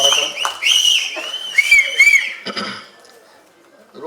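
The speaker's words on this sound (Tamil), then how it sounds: "கை தட்டி விசில் அடிச்சு கொண்டாடுறீங்க" An audience at a Tamil film audio and trailer launch for Kaaduvetti whistles loudly in several shrill bursts mixed with scattered claps and cheering, then the noise drops away to near quiet.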